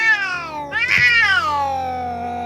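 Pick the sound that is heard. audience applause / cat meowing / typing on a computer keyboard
cat meowing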